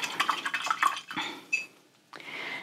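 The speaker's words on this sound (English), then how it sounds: "Let's wash this little brush off." A small paintbrush is swished and tapped in a water cup, making quick close dripping, splashing and clinking sounds in a short burst, a brief pause, then more swishing.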